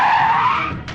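A car's tires screech loudly as it skids to a halt in a Telugu political film, one sustained squeal lasting about a second and ending abruptly, with no voices.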